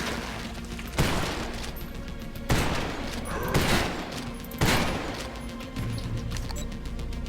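AK rifle fire in the video game Garage Bad Trip comes in dense, loud bursts of rapid shots, with sharp onsets every second or so and a continuous roar of gunfire and action between them.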